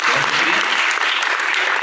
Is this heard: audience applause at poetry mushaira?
yes